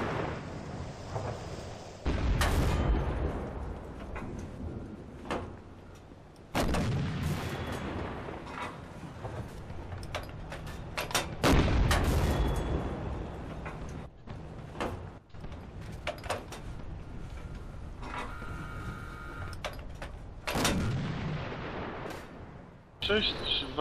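RPD machine gun fire in the Red Orchestra Ostfront video game, with loud, dense bursts of shots and heavy booms in a busy battle mix, some distant, under occasional voices.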